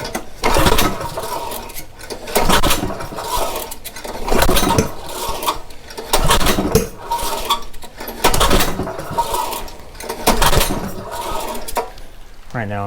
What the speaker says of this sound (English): Right now I'm just hearing it pop back through the carb